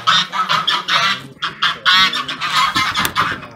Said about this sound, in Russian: Тут гусей много.